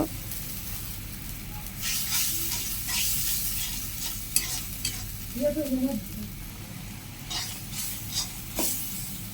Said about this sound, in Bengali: চিংড়ি মাছ দিয়ে মশলার সাথে ভালোভাবে কষিয়ে নিব।